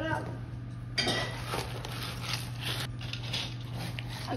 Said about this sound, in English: Now stir it up.